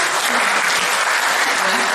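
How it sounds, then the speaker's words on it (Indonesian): An audience at a church seminar breaks into loud, dense applause, with many hands clapping close and steady without pause. "Tepuk tangannya dong."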